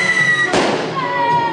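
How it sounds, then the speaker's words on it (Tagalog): Firecrackers set off by children on a Tondo street during the New Year's season: one sharp loud bang with a crackling burst, over steady street noise and distant voices. "Mas malakas na paputok ang pinagtripan."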